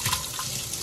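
Water running steadily from a kitchen tap into a sink, a continuous close splashing rush with no talk over it.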